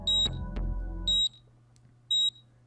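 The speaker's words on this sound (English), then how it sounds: "A tiny beeping sound caught Kano's attention." A PDA in the video game 428 gives three short, high electronic beeps spaced about a second apart, clear and tonal over a low hum and soft background music.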